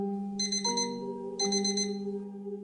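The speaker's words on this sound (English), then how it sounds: "the sound of her alarm clock blaring" An electronic alarm sounds with steady tones and two bursts of rapid high beeping, fairly loud and continuous.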